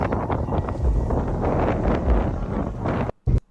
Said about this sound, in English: So it's really windy